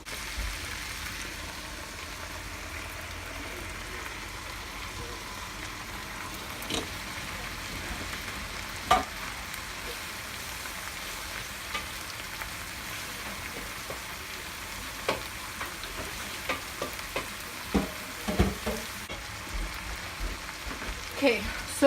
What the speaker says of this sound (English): Now the onions are gonna start getting soft.